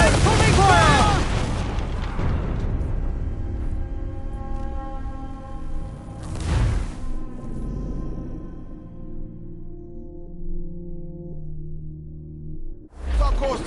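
Ship cannon fire in Assassin's Creed Black Flag: a loud booming volley opens, then a second heavy blast midway with rumbling decay, and a final boom near the end, while crew voices and shipboard sounds continue underneath.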